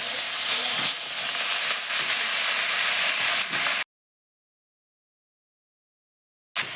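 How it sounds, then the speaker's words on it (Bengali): Potatoes fry in a wok at home, cooked for a pasta dish. A steady loud hiss of sizzling oil runs for several seconds, then cuts to total silence before briefly returning at the end. "তো দেখো এখানে আলু দেওয়া হচ্ছে কড়াইতে।"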